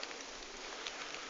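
Steady rain falls outdoors, a soft, even hiss of drops with occasional faint patters, constant and without any voices.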